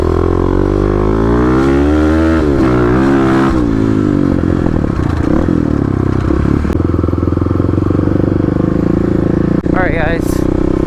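Stage 3 big-bore Kawasaki KLX351 dirt bike engine running close by, a steady buzzing drone with rising and falling revs, under a voice talking over it, with a brief squealing sound near the end.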